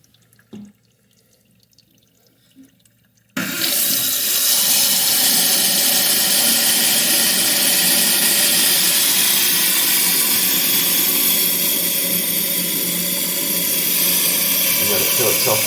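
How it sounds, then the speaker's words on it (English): After a few seconds of near silence with faint handling noises, water gushes suddenly and loudly into a toilet tank as the supply valve is opened, then keeps rushing and hissing steadily at close range while it refills. "So we're going to go ahead and turn the water back on."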